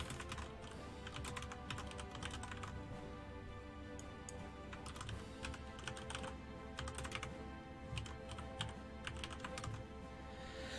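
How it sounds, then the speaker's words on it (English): Steady typing on a computer keyboard during a strategy game, a continuous run of quick key clicks at close range with no voices. "Oh, I can't type in Yuri"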